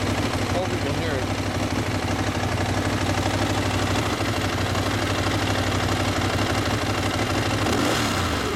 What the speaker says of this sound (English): It's after the rev. You hear like a whoo.